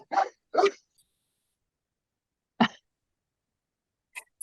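A dog barks sharply in the background of an online discussion among health center staff: two quick barks, then a pause, a single bark, and two more abrupt barks near the end, with silence between.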